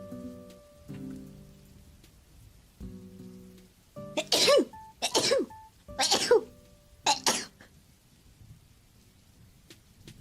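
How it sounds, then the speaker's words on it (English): A person sneezes four times in quick succession, each a sharp loud burst, after a quiet stretch with a faint background hum. "No, I'm gonna sneeze."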